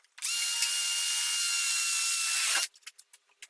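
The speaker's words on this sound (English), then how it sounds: "I'm going to drill a hole in this piece" A power drill bores a hole through a workpiece in a steady, loud whine lasting a couple of seconds, then stops, followed by a few faint clicks and handling knocks.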